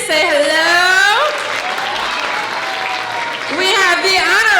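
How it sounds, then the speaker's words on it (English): Applause for the judges at an oratorical contest, a dense clatter of clapping hands in the hall, loud and close, partly under a wavering sung or held voice that rises at the start and again near the end. "let's give our judges a round of applause"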